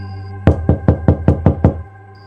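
Someone knocks on a house door with seven sharp, evenly spaced raps, loud and close, with quiet before and after.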